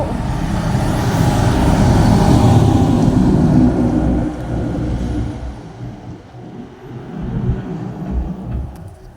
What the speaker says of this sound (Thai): รถเหม็นมาแล้ว